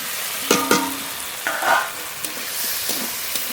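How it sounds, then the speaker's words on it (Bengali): Fried potatoes are dropped and stirred into a sizzling spice paste, with a few clattering scrapes and knocks over a steady frying hiss. "ভেজে রাখা আলু দিয়ে দেবো"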